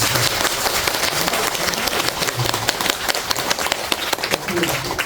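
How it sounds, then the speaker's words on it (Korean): Temple congregants at a Buddhist dharma service clap in a dense, lively round of applause, many hands close and loud with a rapid, slightly uneven patter throughout. "큰 박수로 주십니다."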